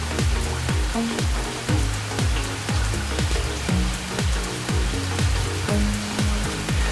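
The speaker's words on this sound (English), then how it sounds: "if you notice the rain going on in the background" Steady rain pattering and dripping on a surface, a dense continuous patter with distinct drops tapping throughout.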